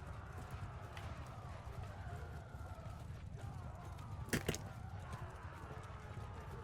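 Horse hooves clip-clop steadily in Mount and Blade 2 Bannerlord, a continuous rhythmic trot set in a dense, busy battle-like background, with a brief sharper clatter partway through.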